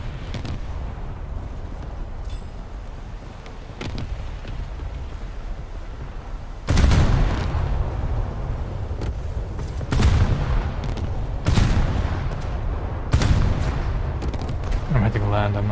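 Front naval guns on an Italian warship fire in a naval combat video game. Four heavy booms land at irregular intervals over a steady rumbling background.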